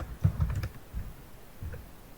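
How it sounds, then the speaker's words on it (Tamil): Typing a business name into a Google My Business page on a computer keyboard, heard as a few soft, quiet clusters of key taps over a faint room hiss. "நான் என்னோடய பிஸ்னஸ் நேம் வந்து டைப் பண்ணுறேன்"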